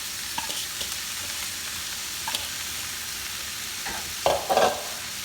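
Sliced cabbage and mixed vegetables frying in a little oil in a pan, a soft steady sizzle with a few scraping stirs near the end, close and fairly quiet.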